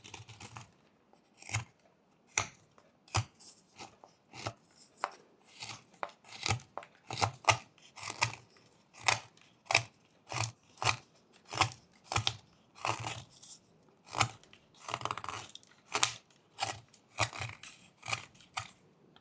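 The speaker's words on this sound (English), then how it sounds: "we're also going to carve a little bit of this edge to get the basic shape going" Knife whittling a small wooden parrot figure, carving its edges into shape: a steady series of short, crisp scraping cuts in an uneven rhythm, close and fairly loud, with no talking.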